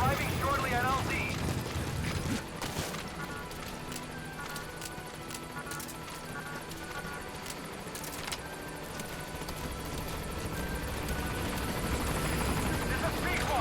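A helicopter arrives at a landing zone in Metal Gear Solid V: The Phantom Pain, its steady rotor thrum and engine whine filling the scene beneath radio voices and in-game music.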